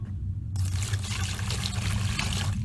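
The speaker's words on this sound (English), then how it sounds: "now I'm going to fill my pan up again" Room-temperature water pours steadily into a pan, a continuous close splashing trickle that begins abruptly and runs without pause, with no one speaking.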